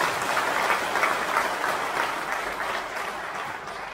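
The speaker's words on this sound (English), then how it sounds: "Round of applause for the session." Audience applause in a government hall at a meeting between Governor Seyi Makinde and EndSARS representatives, a steady dense clapping from a large crowd sustained evenly for about four seconds without pause.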